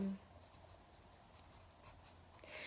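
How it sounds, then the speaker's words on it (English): Pencil or pen scratching softly on paper, a few light strokes close up over a quiet room, with a brief voice fragment at the very start. "now I'm going to write who"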